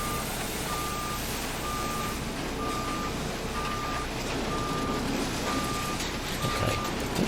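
Regular high-pitched reversing beeps repeat about eight times from a Kenworth W900 Limited Edition truck in American Truck Simulator, riding over a heavy, constant diesel rumble.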